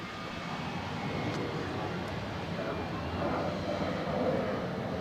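A fixed-wing airplane takes off at Zurich airport, its engine roar a steady, broad rumble held at a moderate distance throughout, swelling slightly toward the end, while people talk nearby.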